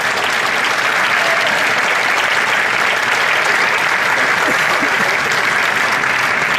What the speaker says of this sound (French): je pense qu'il mérite quelques applaudissements